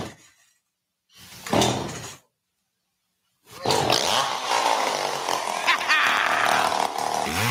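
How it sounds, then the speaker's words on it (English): A chainsaw used as a radio ad sound effect revs in short bursts, then roars loudly and continuously in a harsh, buzzing snarl. "Use a chainsaw by Burl for all your ball stuffing needs."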